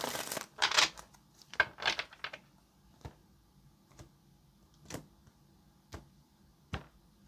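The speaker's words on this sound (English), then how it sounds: "let's go ahead and get this last shuffle" Tarot cards being shuffled by hand, a few riffled bursts early on followed by spaced single taps and snaps as cards are set down, close and fairly quiet with no voices.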